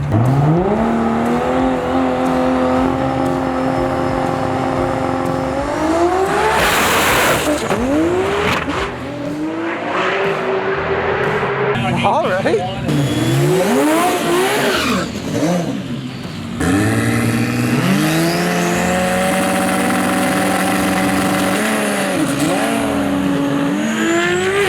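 A Mazda RX-8 with an LS1 V8 swap screams as it revs up through gears in rising sweeps on a drag strip solo run, with tire squeal and a brief spoken remark; loud and close throughout.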